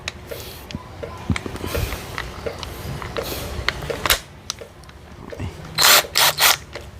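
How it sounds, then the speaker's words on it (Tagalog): An electric impact driver works on the wheel bolts of a car during a disc rotor change, giving short rattling bursts over a workshop background, with someone speaking between the bursts. "Ito po ay isang electric impact driver."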